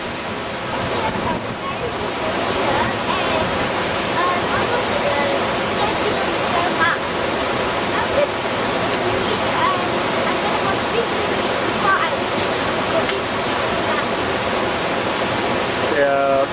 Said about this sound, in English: you could see a slow moving water, crystal clear water